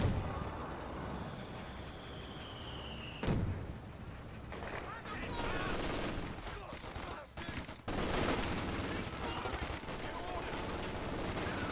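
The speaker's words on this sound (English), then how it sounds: "we do have a landmine detonation there" A landmine detonates in a Company of Heroes 2 battle with a sharp loud blast, amid continuous rattling gunfire and rumbling combat noise.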